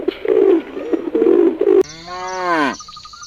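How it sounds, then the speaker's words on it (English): A dove coos in soft, low, repeated phrases for nearly two seconds, then a cow's loud, drawn-out moo takes over. "dove,"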